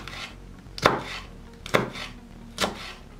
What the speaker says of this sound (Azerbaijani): Bir dənə də yaşıl biber doğrayıram.